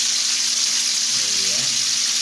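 Chicken pieces for Korean soju chicken fry in a pan with a loud, dense, continuous sizzle close by, and faint low sounds pass briefly underneath.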